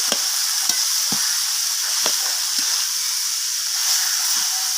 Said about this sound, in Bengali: আমি বাঁধাকপিটাকে মশলার সাথে ভালোভাবে এইভাবে একদম মিশিয়ে নিয়ে ভালো করে কষিয়ে নেব।